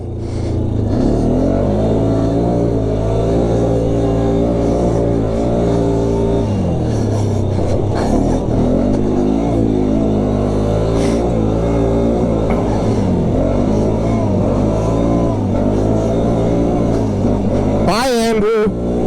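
A Can-Am Outlander 450 ATV rides a snowy, icy, muddy trail, its engine loud and close with a rising and falling drone and throttle changes, and a voice talks over it.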